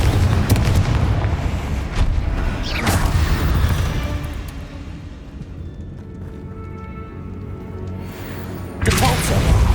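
A Confringo fire spell blasts in the Hogwarts Legacy video game, with several loud booming explosions, one near the start, one near the three-second mark and another just before the end, over a rumbling bed of game noise.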